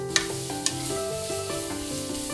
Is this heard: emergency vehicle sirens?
no